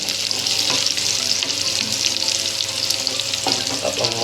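Masala being roasted in a pan for a cabbage dish, giving a loud, dense, continuous frying sizzle with a couple of brief scraping stirs, close up and without speech.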